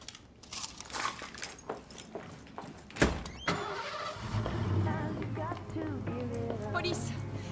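A car engine cranks and starts with a sharp thump partway through, then idles steadily with a low rumble while people talk nearby.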